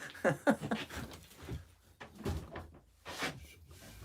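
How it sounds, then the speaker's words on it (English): A shed door swings shut with a knock at the front of a garden shed whose front needs repair, followed by a couple of lighter bumps and rattles as it settles. "That's a door shut."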